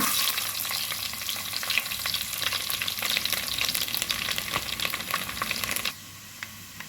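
Mustard seeds and garlic fry in hot oil with a dense, crackling sizzle and scattered pops, close and steady before dropping suddenly quieter near the end, no voices.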